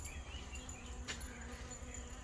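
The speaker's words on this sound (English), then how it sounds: "all these bees flying around" Bees buzz faintly around a stored essential oil mix made with apple cider vinegar, a thin, constant hum under steady outdoor background noise, with no talk.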